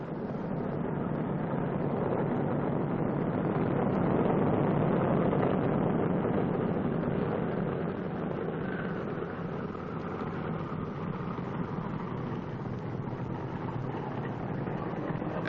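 Loud, continuous roar of a large, heavy aircraft's engines as it taxis and turns at the far end of the runway, with a low rumble and broad hiss, holding steady throughout without any voices.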